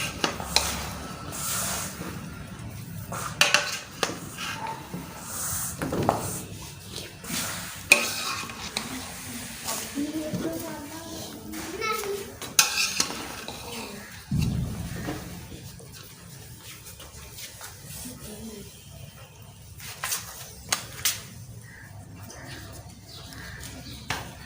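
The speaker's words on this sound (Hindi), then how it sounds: "अभी इसको मिक्स कर लेते हैं।" A spoon scrapes and stirs through mixed biryani in a pot with scattered clinks and soft knocks against the metal, an uneven rhythm over a quiet background, with no talking.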